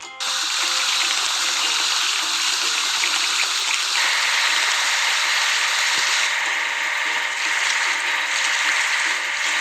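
A steady, loud hiss of water spraying as a pipe layer construction vehicle is washed in a video game, with a rattling mechanical clatter underneath and no voices.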